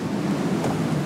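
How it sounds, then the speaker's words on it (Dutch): Strong wind buffets outdoors on the water, a dense low roar and rumble from gusts hitting the microphone, loud and continuous. "Het waait aardig, hè?"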